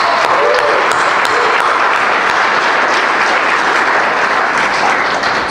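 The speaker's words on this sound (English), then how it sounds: "Just give it a round of applause." Loud, sustained applause from an audience at a Melbourne book launch event, dense clapping filling the room steadily from start to finish as a donor stands to be honored.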